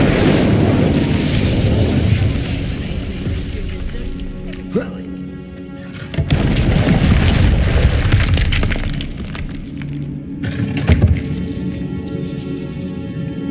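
A fire spell in Hogwarts Legacy bursts in loud, crackling blasts with shattering debris, cutting in over busy game sounds in several bursts across the stretch as a voice speaks intermittently.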